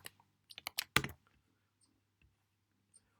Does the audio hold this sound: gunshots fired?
no